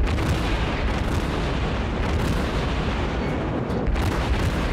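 A warship cruiser in World of Warships fires a rapid gun barrage, a dense continuous rumble of booming shots that stays loud and steady throughout without a clear gap.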